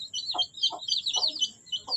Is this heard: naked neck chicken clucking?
yes